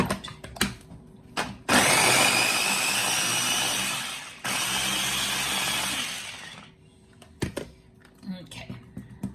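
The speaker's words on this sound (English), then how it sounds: "So to start off, I'm going to blend this first and make it smooth." A countertop blender whirs loudly through hummus ingredients in two long bursts separated by a brief pause, surrounded by soft handling clatter and light talk.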